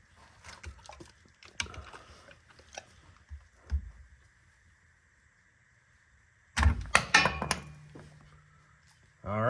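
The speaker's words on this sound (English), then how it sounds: "It appears as though I just have to put a flathead screwdriver in there and pry it off." Flathead screwdriver prying a part off a 3rd function actuator: small scraping and clicking sounds at first, then a sharp loud snap and clatter as the piece pops free, followed by quiet.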